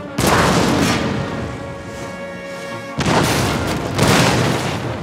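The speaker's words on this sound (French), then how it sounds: "Maintenez la pression en tirant avec vos canons sur la milice ennemie." Cannon volleys boom in the Empire Total War battle game, two heavy rolling blasts a few seconds apart, each followed by a lingering rumbling decay.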